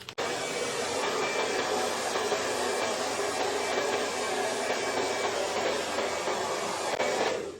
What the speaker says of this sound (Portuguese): antes de soltar, eu vou colocar o jato frio do secador